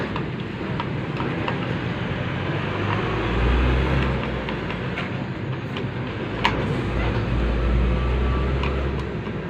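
A ceiling fan running after its bolts have been tightened, a loud continuous whirring drone with a low steady hum and faint irregular ticks, close and with no voices.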